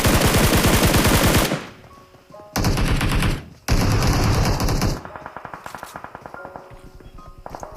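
Gunfire from the mobile battle royale game PUBG Mobile, with loud, dense automatic bursts up close, brief pauses between volleys, then quieter rapid single shots trailing off.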